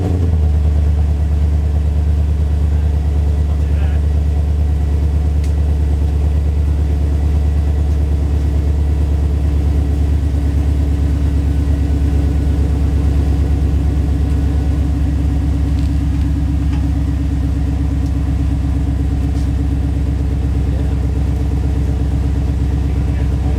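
A car engine fitted with a 3-inch exhaust idling, a loud, deep, steady rumble that holds continuously and close with no pauses.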